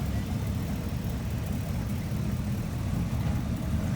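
A black classic Chevrolet Chevelle muscle car idles at an outdoor car meet, a steady low rumbling drone with broadband noise, unchanging and fairly close, with no talk.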